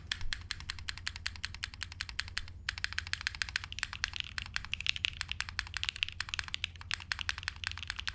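Rapid, steady keystrokes on a custom mechanical keyboard from the Encore Series 3 build, with dense clacky typing throughout and a brief pause near the three-second mark, close and clear with no talking.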